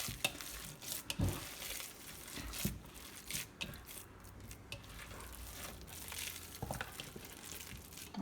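Meatloaf mixture dumped flat into a home kitchen pan, a soft wet thud and squelch followed by a few quiet scattered pats and rustles, close and faint with no talking.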